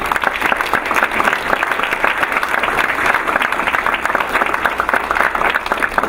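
An audience applauds at a board of education meeting, a continuous, even wash of many hands clapping that stays steady and fairly loud for the full six seconds.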